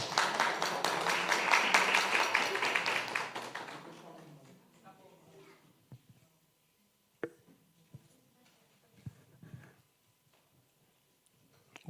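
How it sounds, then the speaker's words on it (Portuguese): Applause from the audience at the opening of an antiracist international seminar, a dense loud burst of clapping for about four seconds that fades out, followed by scattered faint taps and knocks. "Uma salva de palmas"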